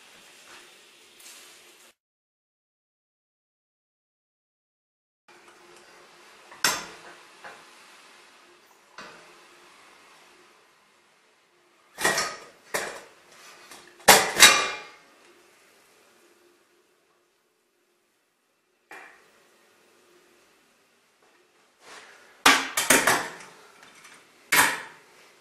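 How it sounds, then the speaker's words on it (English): A pressure cooker used to prepare bacterial culture medium is slowly opened, giving sparse metallic clicks, clanks and brief bursts of hiss separated by near silence. "put the gas off and slowly open your pressure cooker."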